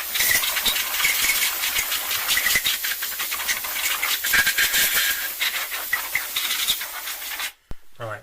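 Compressed air blasts at the crank cases of a Honda VFR800Fi motorcycle in loud bursts of hissing, a series of sharp puffs and gusts that stop abruptly near the end.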